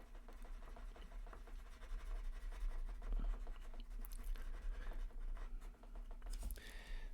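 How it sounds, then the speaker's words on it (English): A pen scratching on paper as dots are connected with lines and shapes colored in, a quiet close series of short strokes and rubbing scribbles at an uneven rhythm. "So we connect these dots, connect these, and then we're going to color it in."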